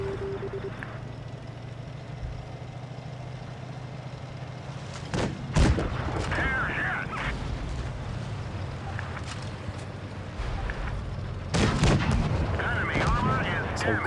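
In World of Tanks Blitz, during a Vietnam War themed battle, a tank cannon fires high-explosive rounds: two loud, booming blasts several seconds apart, each trailing off over a constant low engine rumble.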